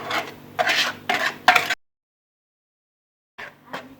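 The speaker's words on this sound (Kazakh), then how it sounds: "Қосып алдық, екеуін жақсылап араластырып" Bowl of risen yeast and milk mixture with eggs and sugar being stirred for sweet buns, a few short bursts of clinking, scraping stirring, then a pause of silence before more stirring resumes.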